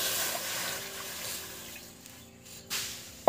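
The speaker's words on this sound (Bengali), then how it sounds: "এই কড়ার মধ্যে এবার জল দিয়ে দিচ্ছি" Water poured into a wok while cooking amla pickle, a steady broadband splashing flow running continuously with a brief sizzling burst near the end as it hits the hot pan.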